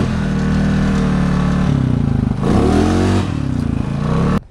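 A Jeep Rubicon on 6-inch portal axles revs hard climbing a steep off-road slope, its engine droning loud and close with pitch rising and falling as the throttle changes, plus occasional clatter.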